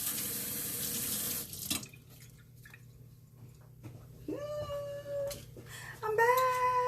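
A kitchen sink tap runs steadily while an item is washed during vegan baked eggplant prep. The water stops abruptly, and quieter clinks and a few high squeaky tones follow.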